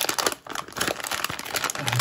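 A smartphone head mount is unwrapped from its plastic bag, giving close, continuous crinkling and rustling of thin plastic with a few sharper crackles over about two seconds.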